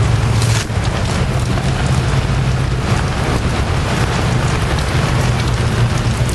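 Steady rain pours in a video game, a dense, even hiss of drops with a low rumbling undertone throughout, loud and continuous with no talk.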